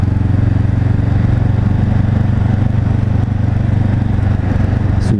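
A 2019 Honda CB 500 F motorcycle's engine hums steadily and loudly from close up while it is ridden, with a constant rumble and wind, and no clear change in engine pitch under braking.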